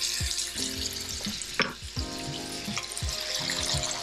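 Fish patties made from rudder fish frying in a pan with homemade roasted garlic butter, a close, steady sizzle and crackle broken by a few short scraping stirs, with no voices.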